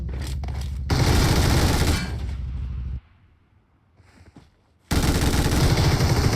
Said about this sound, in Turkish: Bir mermi furyası var burada var ya acayip